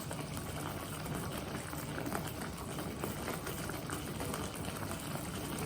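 Sweet chilli sauce cooks in a pot while it is stirred, giving a steady bubbling, simmering sound close by with faint scraping underneath and no talking.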